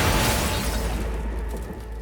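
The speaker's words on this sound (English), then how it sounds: "After the explosion" Grenade blast tearing through an apartment after being thrown in the window: a dense, loud broadband roar with crackling debris that holds steady for about two seconds without clear decay.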